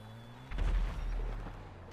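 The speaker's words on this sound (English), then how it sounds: "Just shoot the rocket already." A single rocket launch in GTA 5 Online lands as one deep, heavy boom that swells after a quiet start and then rumbles away slowly, fairly soft in level overall.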